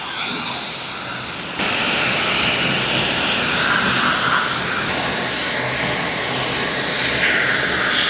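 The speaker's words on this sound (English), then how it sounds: "To dry the hair, what I'm going to use is my blow dryer with the diffuser attachment" A blow dryer fitted with a diffuser attachment drying hair gives a loud, steady broadband rush of air that jumps up in level after a quieter start and then holds continuously to the end.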